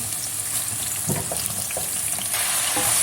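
Chopped leeks hit a hot pan and fry with a steady, loud sizzle, while stirring adds scraping and clattering.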